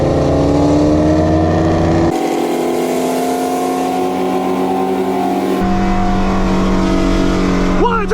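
Camaro ZL1 and Shelby GT350 racing: loud, steady engine drone climbing in pitch under hard acceleration, with abrupt gear-change shifts in tone, heard up close from inside.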